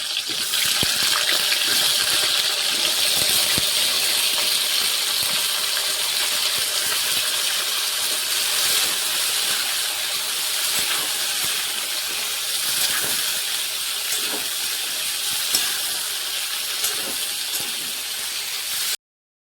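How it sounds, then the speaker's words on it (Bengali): Potatoes and moringa drumsticks tipped into hot oil together for a Bengali moringa curry, giving a steady, dense frying hiss with bubbling and occasional small crackles throughout, close and continuous with no talking. "এরপর আলু আর সজনে ডাঁটা একসাথে দিয়ে দিচ্ছি।"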